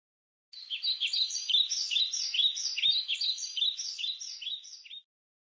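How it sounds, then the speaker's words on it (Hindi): A colourful parrot calls alone in a quick run of bright, high chirps, repeated rhythmically for about four and a half seconds and heard clearly against silence. "कितना सुंदर तोता है, और यह तो रंग बिरंगा तोता है।"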